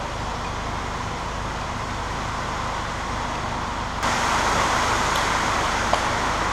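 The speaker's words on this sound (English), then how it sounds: "Sorry about the noise, it's raining, as you can probably hear." Steady broadband hiss of rain, loud and continuous, growing a little heavier partway through, with faint clicks near the end, heard while servicing a little Fiat Mito.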